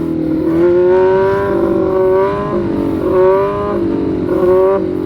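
A motorcycle engine drones loudly and close during a wheelie, its pitch rising and dipping in uneven surges as the rider struggles to hold the throttle steady. The engine is heard alone, with no voices.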